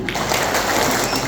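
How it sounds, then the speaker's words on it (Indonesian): Congregation clapping hands together at a Catholic prayer and preaching gathering, a dense steady wash of claps filling the short moment at moderate loudness. "kita tepuk tangan lagi untuk kerahiman"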